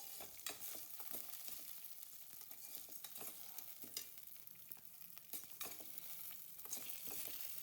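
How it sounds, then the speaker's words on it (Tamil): Sago pearls roasting in ghee, a faint, steady sizzle with soft popping and occasional stirring scrapes, quiet and distant throughout. "இந்த ஜவ்வரிசியை நெய் கூட சேர்த்து நல்லா வறுத்தெடுக்கணும்."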